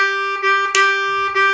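A C harmonica holds a single note in a brief shuffle pattern, long and short pulses alternating unevenly with a swung feel, close and loud with no voices.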